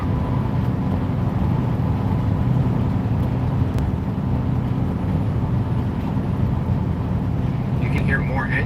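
A car with a Sherpa roof rack and rooftop tent cruises at 65 mph, giving a steady, loud low road and engine rumble with wind noise and no talk.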